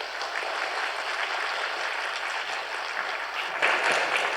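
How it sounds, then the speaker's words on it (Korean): Applause from a church congregation during a Korean worship service as a visiting pastor comes forward to preach, a steady dense clapping that swells louder near the end, with no speech over it. "나오실 때 우리 모두 큰 박수를 맞이해 주시면 고맙겠습니다."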